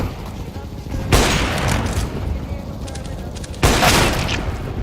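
Grenade and flashbang blasts in CS:GO, two loud broadband bangs roughly two and a half seconds apart, each followed by a long noisy tail of rumble and debris.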